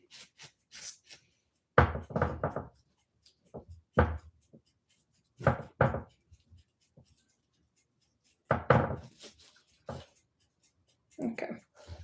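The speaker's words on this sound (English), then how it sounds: "cutting it this way first, but not all the way, just to get smaller slices of onions" A knife chops an onion into smaller slices on a board with sharp, separate knocks, some of them in quick bursts, during a homemade spaghetti preparation. A person speaks in the gaps between the cuts.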